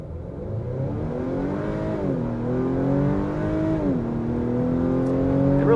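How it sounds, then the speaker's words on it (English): An Acura TLX accelerates hard, its engine note climbing steadily through the gears with brief dips at each shift, loud and close from inside the cabin with no talking. "Okay, here we go with a true acceleration test."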